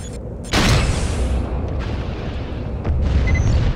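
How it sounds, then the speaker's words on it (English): An enemy Vulture is destroyed in a video game with a loud, sudden explosive blast, followed by a rumbling, crackling decay and a second heavy boom near the end. "Enemy Vulture destroyed."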